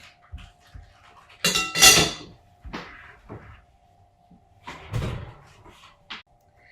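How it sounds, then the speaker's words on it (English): Vegetables seasoned with herbs such as rosemary slide into a home oven, with a burst of metal pan clatter followed by clunks as the oven door is handled, then a final knock. The sounds are fairly close, and no one speaks. "And I'm just gonna pop those in the oven."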